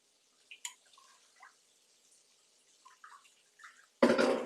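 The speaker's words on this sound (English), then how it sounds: "I put a little bit of water in here just to get the rest of this garlic here." Water splashed into a cooking pan to rinse out leftover garlic, a few faint drips and taps followed by a sudden loud rush of pouring at the end.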